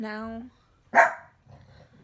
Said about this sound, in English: So I got a dog.